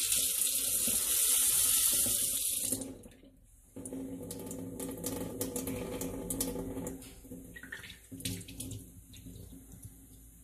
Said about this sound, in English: I'm gonna rinse the water out again